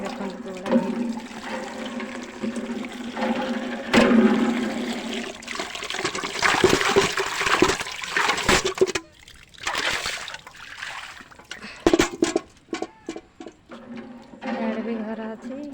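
Water gushes and splashes from a pump outlet in surges, with voices talking over it nearby and a few abrupt pauses.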